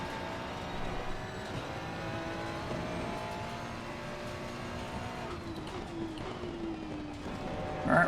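A race car in Assetto Corsa Competizione at Oulton Park gives a steady, fairly faint engine drone whose pitch drops partway through as it brakes, with no talking.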